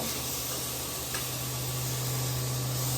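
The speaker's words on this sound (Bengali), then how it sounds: "হচ্ছে মাংস রান্না হচ্ছে এখন" Meat cooking in a covered pot gives off a steady, even sizzle and hiss with a low hum beneath, unbroken and close throughout.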